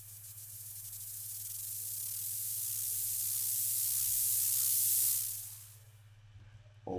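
Synthesized uplifter riser built in the Massive synth, a bright hiss that swells steadily louder and rises for about five seconds, then drops away abruptly over a constant low hum.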